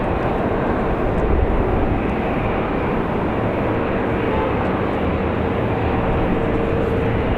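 An airliner lifts off on a windy afternoon at Raleigh-Durham International, a steady, dense engine rumble holding at even loudness throughout with no voices.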